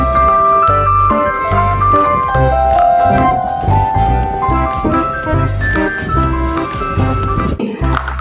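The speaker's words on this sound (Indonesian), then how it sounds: "Yang ini ada mobil es krim." A toy ice cream truck plays its tinny electronic jingle loudly and continuously, a looping melody with a pulsing beat, close by.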